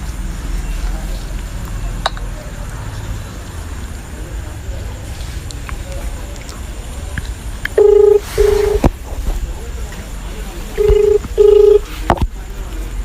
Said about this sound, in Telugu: అన్నయ్యకి ఫోన్ చేసి మాట్లాడతాడు